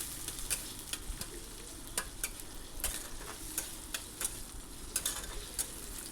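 Chopped onions sautéing with spices in a pan for veg pulao, a soft continuous sizzle broken by regular spatula scrapes and taps, close but fairly quiet.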